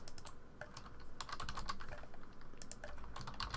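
Rapid clicking of computer keyboard keys while coding a Roblox script, steady bursts of close keystrokes with no voice.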